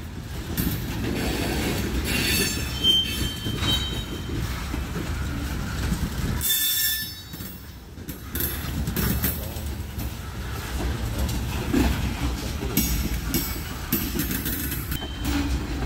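A 99-car freight train hauled by Union Pacific GP38N and SD40N locomotives rolls past steadily with rumbling wheels and clacking joints, broken by occasional high metallic squeals and a brief dip midway.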